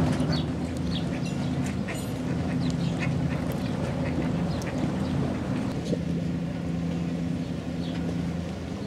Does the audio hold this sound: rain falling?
no